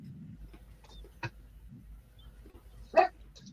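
A small dog barks twice, sharp and yappy, a short yip early and a louder bark near the end, over a faint low hum and quiet background noise.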